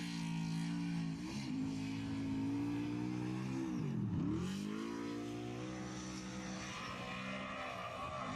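An all-new Ford Mustang engine on a track, a sustained near, loud engine drone that rises and dips in pitch with revving, no voices.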